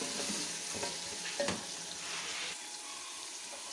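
Spice masala of star anise, nutmeg, mace, fennel and dried coriander roasting in a pan, a quiet continuous sizzle with a few soft stirring scrapes.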